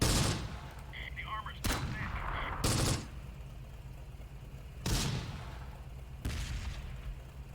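Bursts of WWII gunfire in the Close Combat: The Bloody First battle game at Sbiba Ridge: loud volleys and rattling fire, some near and sharp, with quieter stretches of distant shooting between.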